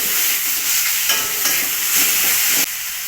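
Chopped tomato stirs in a sizzling pan of spiced chicken-egg curry with turmeric and salt, a loud continuous frying hiss with scraping stir strokes, no talking.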